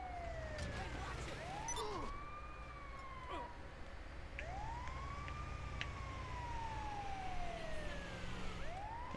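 Wailing ambulance siren in a video game, sweeping up and down in long repeated arcs over a continuous rumbling engine, loud and close throughout with no talk over it.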